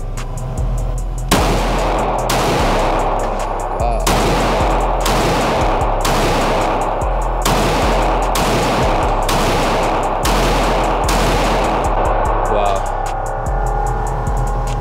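Ten loud, sharp pistol shots from a Glock 19 MOS at a shooting range, fired at an even pace about one per second, each crack ringing out briefly before the next.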